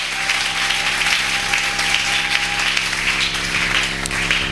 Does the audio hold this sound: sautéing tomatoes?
no